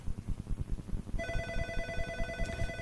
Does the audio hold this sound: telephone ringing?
yes